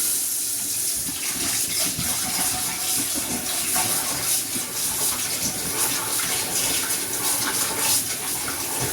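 Rice being rinsed in running tap water before cooking, a steady close splashing and pouring rush with small sloshing knocks throughout.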